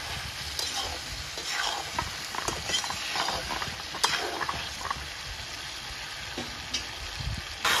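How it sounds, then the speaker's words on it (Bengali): Fried pointed gourd is stir-fried with spices in a pan, giving a busy sizzle with frequent scraping and clattering strokes from a stirring spoon. "ভালো করে একটু কষে দিতে হবে যাতে মশলাটা ভিতরে যায়"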